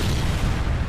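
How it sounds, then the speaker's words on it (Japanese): An explosion goes off during a battle in the video game Trails into Reverie, a dense, loud, rumbling boom that fills the whole moment without pause. "わー、爆発した。"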